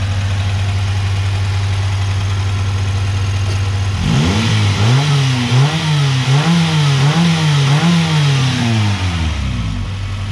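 A Honda car idles steadily before its engine is revved in a string of quick throttle blips, the exhaust note rising and falling repeatedly up close, then easing back toward idle.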